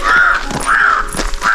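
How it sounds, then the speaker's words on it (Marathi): A crow caws three times in an even rhythm, loud and close, with no talk over it. "या आमच्या संगती कावळा ओरडतं"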